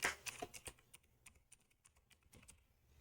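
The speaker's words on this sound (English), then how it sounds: "you type in your position" Quick, soft clicks of keys being struck on a computer keyboard while a form is filled in, arriving in an irregular close-up burst that is busiest at the start, with no talking.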